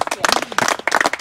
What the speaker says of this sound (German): Für die Kamera würden wir noch mal klatschen.